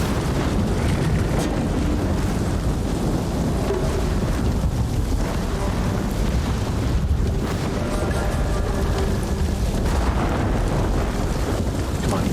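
Lightning strike and a raging wildfire in the video game Ghost of Tsushima: continuous loud rumbling and crackling wash, thunder-like roar with wind and rain-like hiss throughout, no talk over it.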